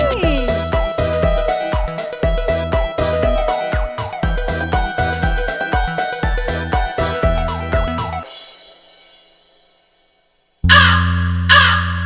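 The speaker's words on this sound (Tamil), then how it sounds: "தாகமக்காகம் இருந்துச்சா, தூரத்திலேந்து வந்துச்சா." A cartoon crow caws in a Tamil children's rhyme, loud repeated calls over a bouncy rhythmic backing track, then after a brief silence two sharp caws ring out on their own.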